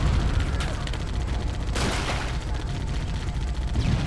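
Gunfire in the video game Halo: Combat Evolved plays as a dense, loud barrage of booming shots and explosions, with one sharper blast standing out near the middle.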